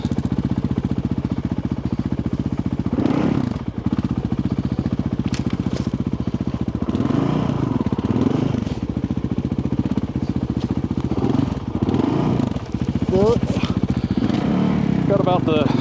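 Motorcycle ridden on a remote trail, its engine droning steadily and rising and falling as the rider works the throttle, with someone talking over it.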